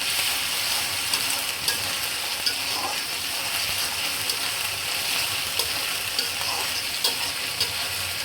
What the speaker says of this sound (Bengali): আদা রসুন পেঁয়াজের সাথে হালকা ভাজি হয়ে গেছে